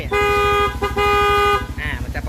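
A Kawasaki KLR650 motorcycle's PANTHER P55LB horn beeps twice in steady blasts, close and loud over the idling engine's rhythmic putter.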